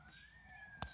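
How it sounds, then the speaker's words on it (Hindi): A faint, steady vehicle siren tone from a video game holds under a quiet background, with a brief sharp knock near the end. "ये इस गाड़ी का सायरन है"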